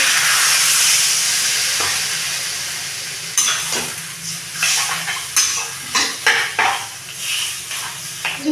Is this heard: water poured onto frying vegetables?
yes